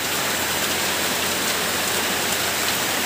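Heavy monsoon rain pours down steadily in a Bengali village setting, a loud, dense, unbroken hiss of drops close by with no other sounds.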